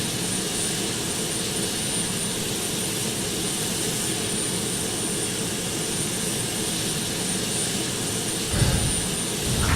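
Simulated Boeing 767 jet engines in Flight Simulator X drone steadily while the airliner taxis, a loud, continuous broadband roar with a faint high whine and a brief bump near the end.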